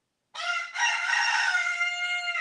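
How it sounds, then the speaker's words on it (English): A young rooster, a cockerel, crows once from the start, loud and close, a sustained strained call stretching over two seconds with no talk over it. "these young cockerels, that's what you call a young rooster, a cockerel"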